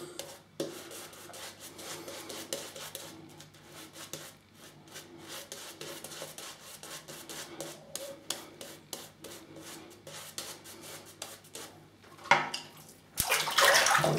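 A shaving brush swirls lather around a bowl in quick, repeated wet rubbing strokes, close up and rhythmic, ending in a brief louder splashing burst.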